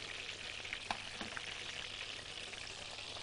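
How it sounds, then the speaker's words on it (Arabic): Onions and peppers frying in butter and oil left over from cooked sausages, a soft continuous sizzle with faint crackles, quiet and steady with no talking. "هبدا ان انا انزل بقى بالمكونات الحلوه اللي معانا اللي هي البصل والفلفل"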